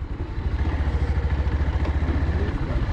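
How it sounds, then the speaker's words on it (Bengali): Small-wheeled scooter engines puttering near a forest checkpost, a close idling motor with a rapid regular throb and light clatter, no voices. "স্কুটার প্রচুর চলে এখানে"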